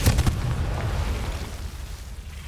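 A Confringo fire spell blast in Hogwarts Legacy: a sharp burst at the start followed by a rumbling low boom that slowly trails off, with no voices.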